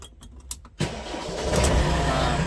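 A JCB backhoe loader's diesel engine cranks with a few clicks, then catches with a sudden loud roar and settles into a heavy, rising rumble close by.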